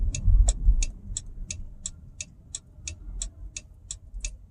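A car's turn signal ticks in a steady, even rhythm, about thirteen crisp clicks over a low rumble of engine and road noise inside the moving vehicle.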